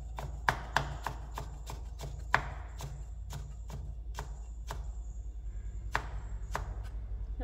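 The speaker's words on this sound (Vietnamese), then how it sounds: "Phần gừng này em sẽ cắt sợi." A knife cuts ginger into thin strips on a cutting board, making a run of sharp, evenly spaced chopping taps close by over a low background hum.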